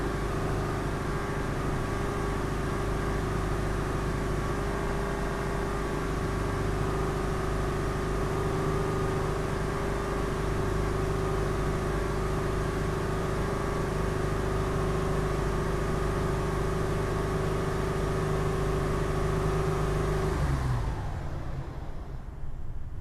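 A Hyundai Terracan engine with a misfire runs at a steady close drone for about twenty seconds, then cuts off sharply near the end, with no voices over it.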